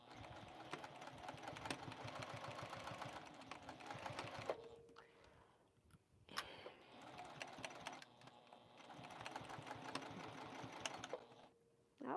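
A Juki sewing machine runs steadily, stitching a long quilt seam, its rapid needle clatter loud and continuous, with brief pauses around the middle and near the end when the machine stops and restarts.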